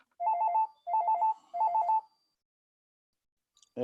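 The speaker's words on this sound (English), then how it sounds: "could somebody get that phone, please?" An office telephone rings three times in evenly spaced electronic trilling bursts, each with a fast warble. The ringing is clear and fairly close, then silence follows until a faint sound at the very end.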